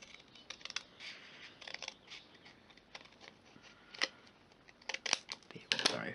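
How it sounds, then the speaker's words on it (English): Paper card for a Stampin' Up! handmade card is trimmed with short, crisp cutting snips and light rustling, quiet and close, with a few sharper clicks near the end. "I might actually trim that off just a little bit on this side."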